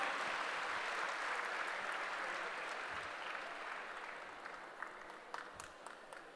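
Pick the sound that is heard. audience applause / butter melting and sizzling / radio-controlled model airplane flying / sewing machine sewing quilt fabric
audience applause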